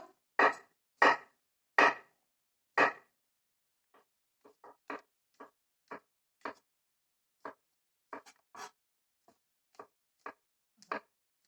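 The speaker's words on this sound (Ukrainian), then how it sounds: "Печериці нарізаю." A knife slices mushrooms repeatedly against a board: a few louder cuts first, then a long run of quieter, evenly spaced taps, close and without speech.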